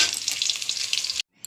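Potatoes fry in hot oil, giving a close, crackling sizzle with busy spatter that runs steadily before stopping abruptly. A brief faint sizzle returns at the very end.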